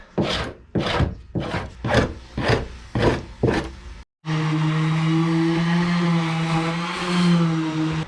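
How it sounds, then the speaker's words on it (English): A scraper works the wooden hull of a boat hauled out for restoration. Seven rhythmic, rasping strokes come up close, then a steady droning machine takes over. "And scrape."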